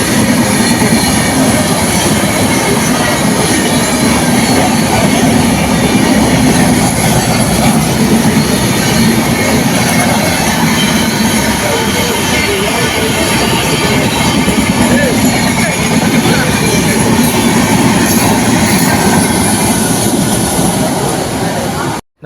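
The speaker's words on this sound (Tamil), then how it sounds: "நம்ம சென்னை சென்ட்ரல் போகக்கூடிய இந்த லோக்கல் இஎம்ஐ ட்ரெயின் வந்து கரெக்டாக 9:55க்கு கும்மிடிப்பூண்டி ரயில் நிலையத்திலேருந்து எடுக்கணும்" A local EMU commuter train on the Gummidipoondi to Chennai Central line rumbles along continuously, loud and close, with a steady roar of wheels on rails and faint squealing throughout.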